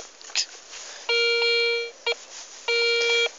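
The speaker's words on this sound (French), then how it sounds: "il y a un son là. Je pose mon détecteur ici, là." A metal detector held still over a find gives three clear electronic tones: two long steady beeps and one short blip between them, loud and close, with no talk.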